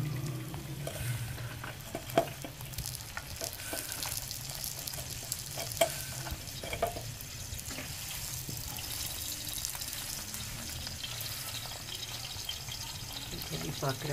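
A saag paratha cooks in ghee on a pan with a continuous close sizzle and frying crackle, punctuated by occasional scraping and tapping of a utensil.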